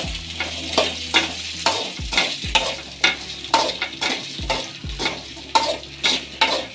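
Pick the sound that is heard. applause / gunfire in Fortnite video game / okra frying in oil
okra frying in oil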